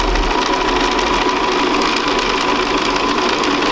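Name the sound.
sewing machine stitching around a circle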